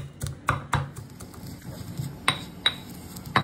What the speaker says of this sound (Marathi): आता मी ह्याला दरदरा म्हणजे असं जाडसरच थोडंसं खलबत्त्यामध्ये कुटून घेणार